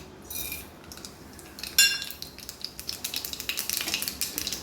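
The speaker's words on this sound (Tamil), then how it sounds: "எண்ணெய் சூடாகிடுச்சு கடுகு உளுந்த பருப்பு போட்டுக்கோங்க" Mustard seeds and urad dal hit hot oil in a pan, giving soft crackling and popping that builds into a steady run of small sharp pops near the end, with a clink of metal cookware partway through.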